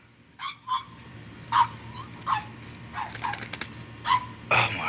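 Small dog giving short, sharp yips and barks in scattered bursts, moderately close, over a low steady hum.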